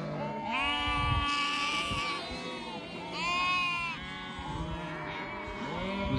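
Several lambs bleat repeatedly on an island, some close and loud, others overlapping, with soft rustling in between, as they wallow in mud.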